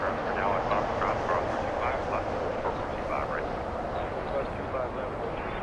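An Emirates airliner departs Los Angeles International Airport, its broad, steady jet roar filling the whole stretch at an even level while people talk over it throughout.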